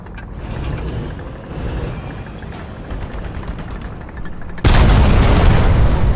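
A tank cannon in War Thunder, a Swedish vehicle, fires a high explosive shell: a sudden loud booming blast near the end that follows a low rumbling engine and battle ambience.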